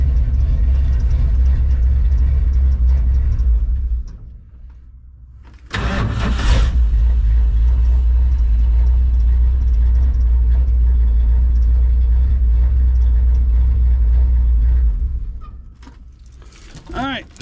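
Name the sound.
truck engine running after a cold start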